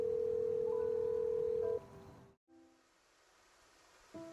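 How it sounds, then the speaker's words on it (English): A steady phone dial tone in the Love and Deepspace video game plays as a character calls someone, a clear sustained hum that cuts off, followed by a brief gap and soft background ambience. "then pulls out his phone to call someone."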